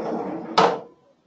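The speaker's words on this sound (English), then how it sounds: "That was the cash drawer." A point-of-sale cash drawer opens in one sharp clack with a brief rattle that fades quickly, heard just after a short stretch of muffled background murmur.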